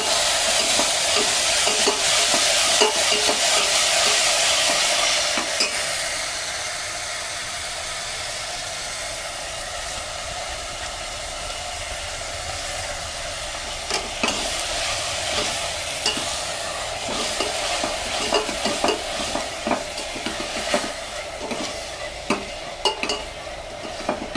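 A ground paste of onion, garlic and tomato frying in a pan, with a steady loud sizzle that eases after a few seconds into a lower, continuous crackle with occasional stirring scrapes.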